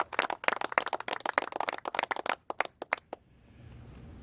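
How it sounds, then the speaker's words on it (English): An audience at a governors' press event claps in a brief round of applause, with dense, fairly close claps that thin out to scattered single claps and fade into room noise after about three seconds. "So can we give them a round of applause too, please?"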